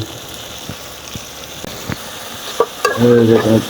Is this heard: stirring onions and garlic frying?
yes